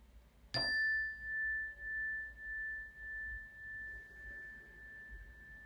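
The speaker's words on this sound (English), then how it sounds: "And listening to the sound of the bell." A single bell strikes once, clear and bright, then rings out in a long, slowly pulsing tone that gradually fades.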